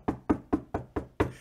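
Six sharp knocks on a door come close and loud in a steady, even rhythm, with no voices.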